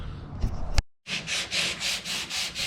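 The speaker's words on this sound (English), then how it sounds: "I'm still sanding it a little bit rougher just because that rubber covers every bit of this up." Sandpaper rubbed by hand over a surface, a brief scuff and pause followed by steady rhythmic back-and-forth rasping strokes, close and continuous with no talk.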